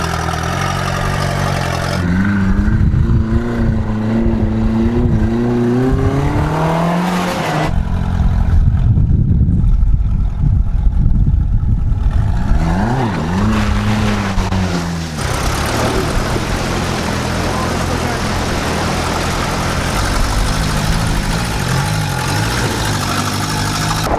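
A dune buggy engine on a rainy beach idles, then revs up and down in rising and falling surges, staying close and loud throughout.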